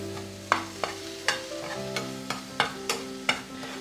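Noodles being stirred and mixed in a pan, a regular series of sharp spatula knocks and scrapes against the pan roughly every half second over a faint sizzle, close up and with no voices.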